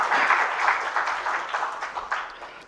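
An audience claps warmly to welcome a speaker at a Tamil-language event, a dense, even burst of applause that fades slightly toward the end.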